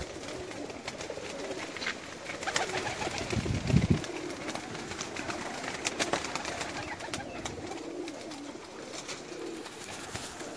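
Pigeons coo and call steadily inside a large loft, layered busy bird sound with a louder burst of wing or movement noise near the middle, continuous throughout with no talking.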